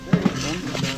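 Clatter of a cooking pot set down for khichuri on an outdoor riverside picnic stove, two short knocks in quick succession, close and moderately loud over a low background hum.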